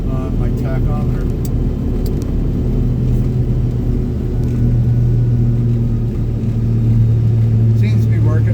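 A John Deere tractor working at an airfield drives a blower with a loud, continuous engine rumble whose pitch sags and then rises again as the RPM drops, heard close up.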